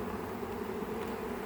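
A honey bee swarm gives a dense, steady buzzing drone, close and continuous, with no breaks or talking.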